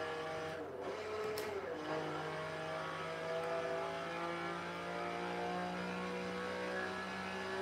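A car engine in the Forza Horizon 3 racing game, holding a steady droning tone that rises slightly early on, then cruises at an even pitch, continuous and moderately loud without talking.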